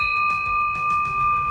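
A classroom chime bell struck with a small mallet rings as one sustained bright, clear tone that holds steady and close throughout.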